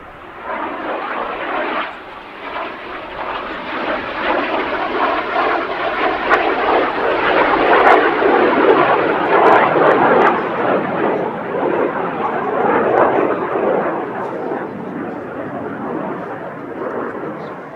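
Bronco propeller aircraft rolling through an aileron roll at the Midlands Air Festival 2024 airshow, a loud, sustained engine roar that rises and holds for many seconds with a rough, buzzing edge.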